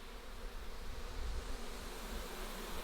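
Honeybee swarm at a hive entrance, hundreds of bees fanning and buzzing in a continuous low drone, close by and fairly quiet, with no talking.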